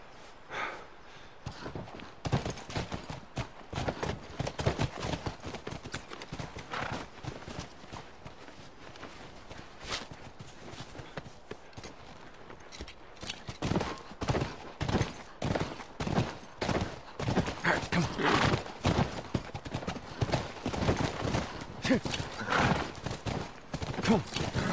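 Horse hooves clip-clop steadily in The Last of Us video game, a long run of rhythmic, moderately loud hoof beats with brief pauses and some scuffing.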